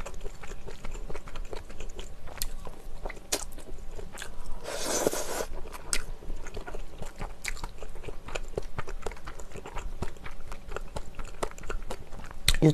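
Fish cake being chewed during a malatang mukbang, with close, crisp biting and crunching in a steady rhythm, plus a brief louder burst of chewing noise near the middle; no talking.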